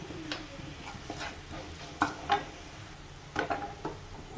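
Onions fried with chili powder in a pan for a spinach and egg fry sizzle steadily, with a few louder scrapes and stirring knocks of a utensil against the pan.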